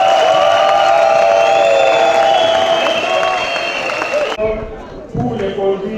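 Applause and cheering fill a legislative assembly hall, a dense sustained wash of clapping that cuts off abruptly, leaving a quieter murmur of room noise and scattered movement.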